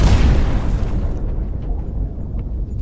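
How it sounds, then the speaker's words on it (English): A loud, deep boom of power bursts from within a throne room, starting with a heavy blast and then trailing off into a low rumbling decay. "from within the throne room, one loud explosion of power"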